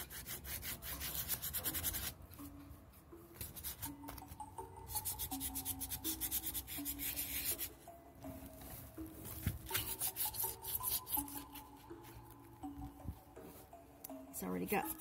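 Scuff-sanding a tiny horse figure before painting: close, repeated rubbing and rasping strokes in uneven bursts, with a person talking over them at times.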